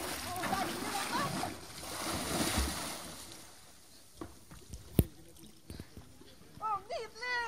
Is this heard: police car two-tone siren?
no